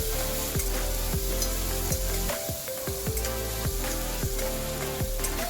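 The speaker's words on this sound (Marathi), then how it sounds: "मिरच्या, कांदा हे व्यवस्थित भाजून घेऊया." Green chillies, ginger and onion sizzle in hot oil for a dal tempering, with a steady close frying hiss and regular stirring scrapes and clinks of a spoon against the pan.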